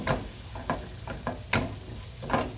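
Onion caramelizing in a frying pan sizzles steadily while a utensil stirs it in a series of scraping strokes, close and fairly quiet, with no talk.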